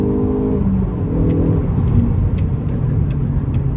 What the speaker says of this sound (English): when I hit sport mode, drop it into third and boot the floor, just listen to that.